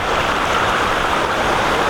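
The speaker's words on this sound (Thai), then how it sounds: "นี่จะเป็นน้ำตกชั้นเล็กๆเล็กๆไปนะครับด้านหลัง" A small waterfall tier in Lan Sang National Park, Tak, Thailand, rushes as a steady, close, even hiss of flowing water with no voices.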